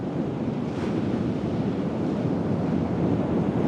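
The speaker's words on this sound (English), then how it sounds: "And then we had the waves on top of it." A continuous wash of ocean surf, a dense, even roar of breaking waves with no voices, steady throughout.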